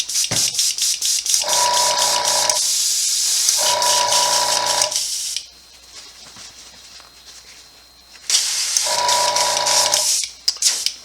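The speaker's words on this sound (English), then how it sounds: "Clean up the airbrush." An airbrush being cleaned, sending out loud bursts of hissing spray that start and stop in several long blasts, with a brief quiet gap between them and a mechanical rattle under each burst.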